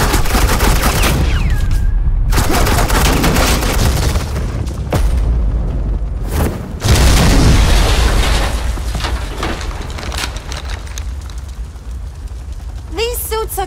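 Suppressing gunfire in Batman: The Enemy Within: sustained loud bursts of automatic fire and booms, broken by brief gaps, with voices speaking over parts of the barrage.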